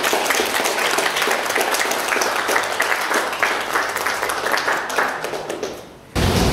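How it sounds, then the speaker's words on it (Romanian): A dense wash of clapping from an audience at a poetry event, loud and continuous for about six seconds before breaking off abruptly. "vă rog să și aplaudați."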